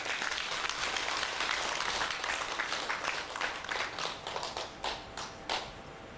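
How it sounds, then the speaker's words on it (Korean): An audience at a Buddhist dharma talk applauds with dense clapping that fills the room, then thins into a few separate claps before fading. "고맙다고 박수 한번 쳐요"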